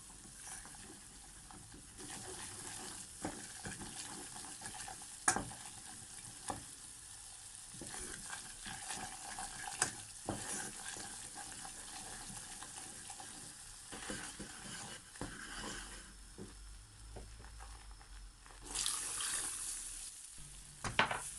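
Continuous soft sizzling as flour is roasted and stirred in a pot, with occasional scraping clicks of a utensil against the metal, fairly close and steady.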